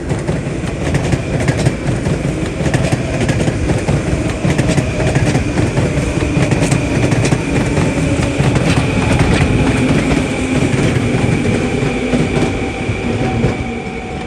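A ten-car Long Island Rail Road train led by locomotive 9195 rolls in during the morning rush, a steady loud rumble with rhythmic wheel clatter and a faint squeal throughout.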